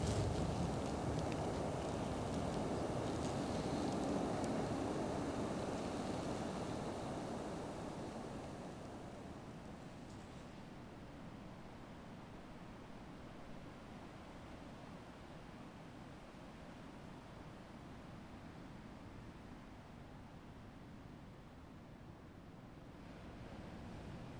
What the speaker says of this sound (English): all you can hear are the waves